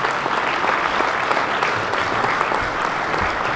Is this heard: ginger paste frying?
no